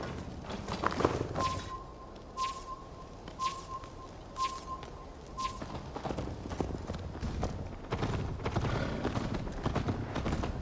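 Horse hooves galloping during a race in the video game Assassin's Creed Valhalla, a fast rhythmic clip-clop running throughout with a faint tone sounding in the first half.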